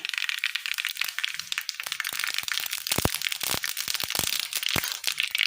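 Mustard seeds spluttering in hot oil in a pan, with rapid irregular sharp pops and crackles over a steady sizzle, close and fairly loud throughout.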